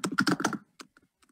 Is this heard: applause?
no